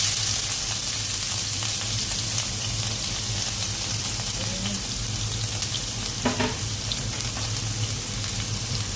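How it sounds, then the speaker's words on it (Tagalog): Onions sautéing in a pan for egg with onions, a steady dense sizzle and crackle with occasional stirring scrapes, close and continuous with no talking. "So, igisa muna natin yung ating onion guys."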